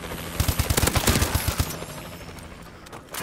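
Rapid bursts of video game gunfire crackle in quick succession, loud and close, then fade into a softer, steady battle ambience with no talking.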